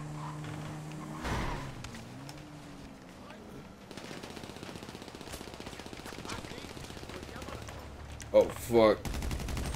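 In Grand Theft Auto V Online, close rapid automatic gunfire rattles in sustained bursts with a few single shots before and after, while players talk over the action.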